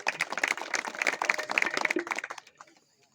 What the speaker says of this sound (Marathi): त्यांच्यासाठी एकदा जोरदार टाळ्या होते.